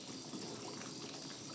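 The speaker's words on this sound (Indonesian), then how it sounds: "ini kan sudah mendidih" Water bubbles and simmers at a low level in a pot, a soft continuous gurgling without talk.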